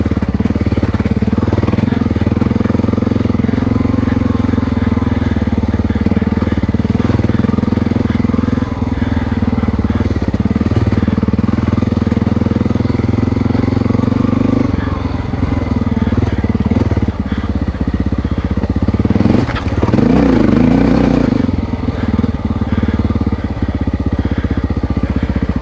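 A Honda XR600R motorcycle engine on a test run, a loud, steady single-cylinder rumble with a throaty low drone, rising briefly into a harder rev near the end before settling back.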